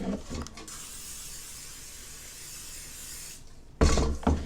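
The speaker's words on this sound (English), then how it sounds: "So I am going to spray my inside here so my food doesn't stick." A steady hiss of aerosol cooking spray into an air fryer basket runs for about three seconds, close by, followed by a clatter as something is set down.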